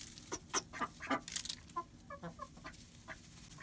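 Aseel chickens on a rooftop cluck in short irregular bursts, some nearby and sharp, over a low background hum.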